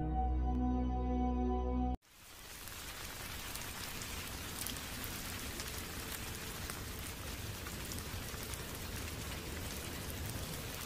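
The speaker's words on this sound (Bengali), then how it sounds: "বাহিরে ঝড় বৃষ্টি হচ্ছে" Steady rain pours outside during a storm, a dense even hiss of drops that fills the scene after a brief tonal opening cut off near the start, with no voices.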